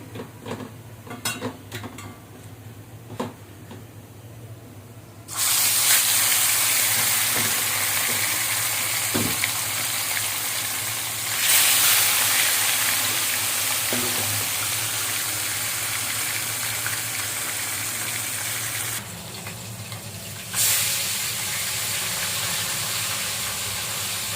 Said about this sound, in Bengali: আরো দুইটা মাছ আছে ভাজার জন্য,